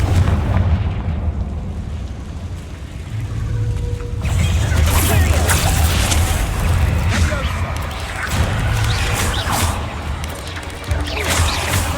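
Repeated Confringo fire-spell blasts in the video game Hogwarts Legacy, loud booming explosions layered over a constant rumbling backdrop of game music and effects, with bursts of crackling detail continuing throughout.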